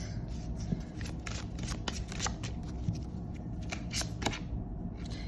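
Tarot cards are shuffled in quick riffling bursts, soft and close, repeating irregularly over a few seconds with no speech.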